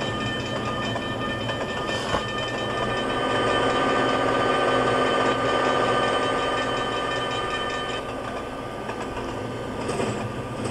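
An Amtrak passenger train in the Trainz simulator rolls past a grade crossing at about 48 mph on the CN Holly Sub, giving a steady loud rumble with rhythmic rail clatter that swells and then eases slightly.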